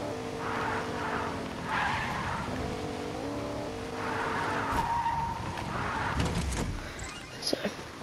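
A video game car drives and skids, its engine droning in wavering tones as the tires squeal briefly, with a few clattering thuds near the end and no speech.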